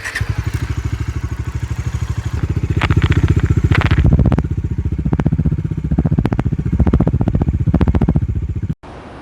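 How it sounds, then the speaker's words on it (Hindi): A Bajaj Dominar 400 motorcycle engine runs close by with a steady throbbing beat, revving up briefly a few times before cutting off abruptly near the end. "इसकी बाइक का साउंड भी कुछ ज़्यादा मस्कुलर हो गया पहले से।"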